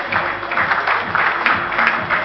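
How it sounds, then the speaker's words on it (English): An awards ceremony crowd applauds for a lifetime achievement honoree, a continuous, fairly loud wash of clapping filling the room without pause. "Can we have a huge round of applause?"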